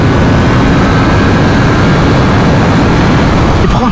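Triumph Street Triple 765 three-cylinder motorcycle engine, loud and close, in a sustained high-rev howl with dense broadband roar and wind noise throughout, no speech.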